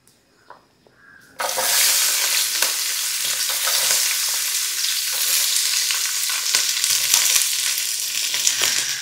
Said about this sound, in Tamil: எண்ணெய் காஞ்சிட்டு வெங்காயத்தை போட்டுருவோம்.